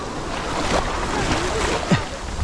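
Strong wind buffets the microphone at the seaside at Arraial do Cabo, with surf washing and rushing in the background and a brief louder gust near the end.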